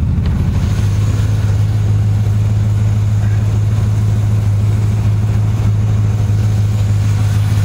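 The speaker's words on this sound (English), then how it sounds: "we're about 3 feet away from directly out from the exhaust, and that's what it sounds like idling" A car engine idles about 3 feet from the exhaust outlet with a steady low rumble and throb, continuous and unchanging throughout.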